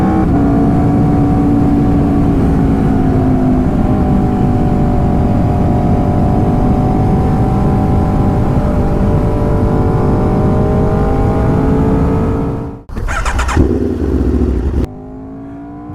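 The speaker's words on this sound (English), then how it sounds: "That's the Aprilia RSV4." An Aprilia RSV4 motorcycle engine holds a loud, sustained high rev with a smoothly climbing whine, then drops off abruptly into a short burst of clattering before settling quieter.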